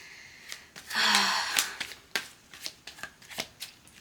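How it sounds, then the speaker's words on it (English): Tarot cards riffled and shuffled in a quick, close burst, then single cards snapped and drawn from the deck in a run of sharp, light clicks, with no voice over them. "So I'm going to get a few more cards and see why that is."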